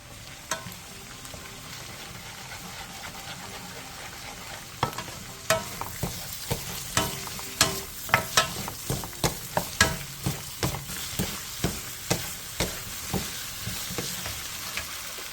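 Sausages are stir-fried in a pan with ketchup, gochujang, corn syrup and green onion. A soft sizzle runs throughout, joined midway by a steady rhythm of close, sharp utensil scrapes and taps as the food is tossed. No one speaks.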